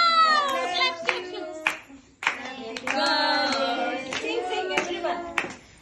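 Hands clap in a lively burst at a child's birthday celebration for Joel, sharp claps scattered through cheerful singing and excited voices that stay louder than the clapping.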